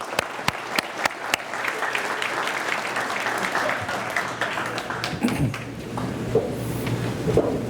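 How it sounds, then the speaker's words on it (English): A crowd applauds steadily at a State of the City address, a dense wash of many hands clapping that carries on throughout, with a few sharper claps near the start. "Let's give them another round of applause."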